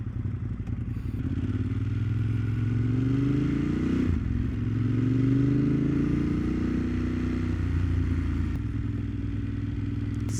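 A Ducati Monster 1200S motorcycle engine runs up close with a loud, deep, throbbing note, its pitch rising and falling slightly as the throttle changes, with some mechanical clatter and no speech.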